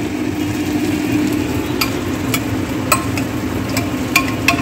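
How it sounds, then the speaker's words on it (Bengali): Boiled mutton from a pressure cooker, about 1 kg with large onions and ginger-garlic paste, is added to a pan for curry and stirred, giving steady sizzling and frying under a continuous hum with a few sharp utensil scrapes. "এবার মটনটা দিয়ে দিচ্ছি সেদ্ধ মটন এটা"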